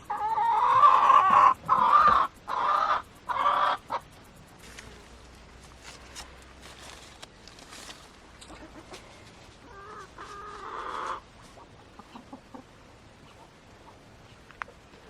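Several chickens cluck loudly in short bursts close by on an off-grid smallholding in Spain, followed by quieter scattered clucks and rustling.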